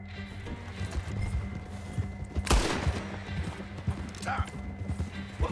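A single sharp gunshot cracks out in Red Dead Redemption II amid a game soundscape of horse hooves clip-clopping and low rumble, with a few fainter knocks afterwards and a person talking over the scene.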